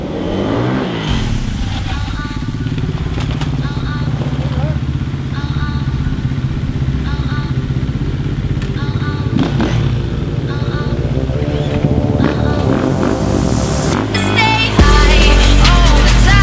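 KTM supermoto motorcycle engine revving close by, a steady loud drone with repeated throttle blips and rising revs throughout, ending in a sharp louder burst near the end.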